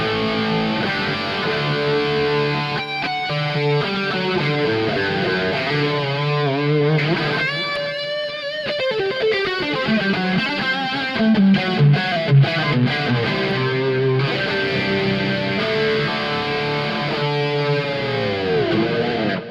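An electric guitar played through the Two Notes Genome amp plugin on its 80s LA Lead preset, heavily distorted lead lines with bends and sustained notes, played continuously and alone at close, loud level.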